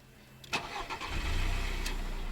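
A parked car that has stood for a week cranks briefly with a few clicks and whirs, then catches and settles into a loud, steady close idle.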